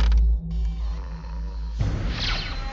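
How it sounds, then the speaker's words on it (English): Floor creaking in a cartoon: a drawn-out wooden creak and groan rising and falling over a couple of seconds, then a swishing, scraping tail, fairly close and alone with no talk. "A creak in the floor did, though!"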